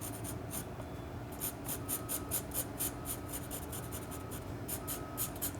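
Dark charcoal dragged across paper in a drawing session, a steady dry scratching with repeated short strokes in a rhythmic pattern, close and moderately quiet with no voices.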